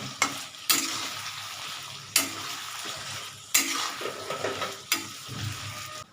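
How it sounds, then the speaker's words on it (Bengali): Food fries slowly in a pan over a gas flame, alongside potatoes, for a bhetki fish-bone chorchori. A soft, continuous sizzle is punctuated by several sharp utensil knocks and scrapes at irregular intervals. "এটা আস্তে আস্তে ভাজা অনেকটা হয়েছে একটু ব্রাউনিশ কালার আসছে"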